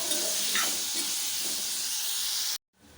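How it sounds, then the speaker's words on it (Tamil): Tomatoes and spices sauté in a pan for Tirupati temple-style chutney, a steady loud sizzle with broadband hiss and faint stirring scrapes, cutting off abruptly near the end. "இப்போ இது எல்லாத்தையும் சேர்த்துட்டு நல்லா வதக்கணும்"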